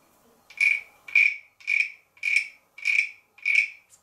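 A wooden frog scraper, a percussion instrument in a set of three sizes, rasped in six evenly spaced, bright croaking strokes with short gaps between them, close and clear over a quiet background.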